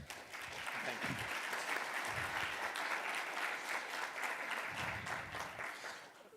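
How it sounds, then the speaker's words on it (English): Audience at a symposium applauds, a dense, sustained burst of clapping that stays full for several seconds before tapering slightly at the end. "Applause for him."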